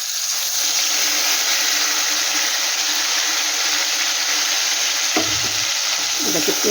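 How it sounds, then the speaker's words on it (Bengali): Ground black mustard and poppy seed paste sizzles in a hot pan while being stirred, a loud, continuous frying hiss with a few scraping stirs near the end. "এটাকে একটু হালকা ভাজা করবো"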